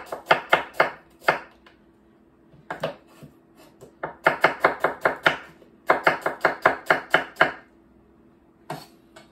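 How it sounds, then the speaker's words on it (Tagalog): Onion chopped with a knife on a board, bursts of rapid crisp knocks in quick runs separated by short pauses, close and loud, no talking. "the 1 onion is chopped"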